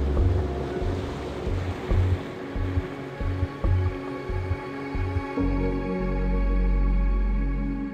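Sea waves roll in at a Goa beach while strong wind blows, pulsing surf rumbles giving way to a loud, steady wind roar buffeting the microphone; no speech.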